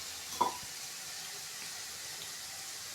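Onions and spices sautéing in a kadai for a dried-fish karuvadu kulambu, a steady soft sizzling hiss throughout with one small clink early on.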